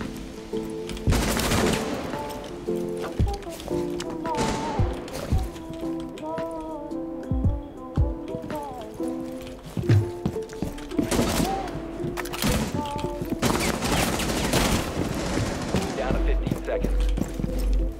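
Video game gunfire from an SMG11 in a tactical shooter, repeated bursts of sharp shots cutting through the mix while players talk over it and in-game sounds and music play beneath.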